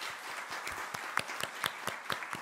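Faint, sparse clapping at a women's branch leadership handover ceremony of a Turkish political party, a few distinct claps in a loose rhythm against quiet background.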